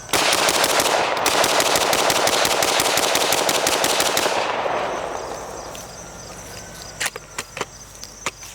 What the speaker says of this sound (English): so I'm gonna shoot a little faster. Kind of a mag dump, kind of not.